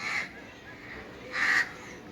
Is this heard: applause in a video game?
no